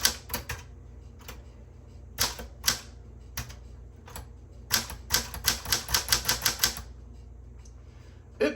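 Manual typewriter with a sticking sliding carriage rack that only moves under pressure, giving sharp mechanical clacks and ratchet clicks, scattered at first then a quick run of even strikes, close and loud.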